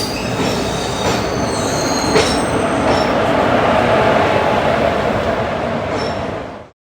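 A train rolls into Thiruvananthapuram railway station in Kerala with a loud, steady rumble of wheels on rails, high metallic squeals of braking wheels, and rhythmic clatter before cutting off abruptly.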